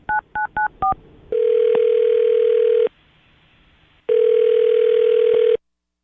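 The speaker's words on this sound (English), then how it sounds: "I'm going to dial her phone number right now" Four quick touch-tone beeps, then two long steady ringback tones separated by a pause, clear and close as a phone call is placed.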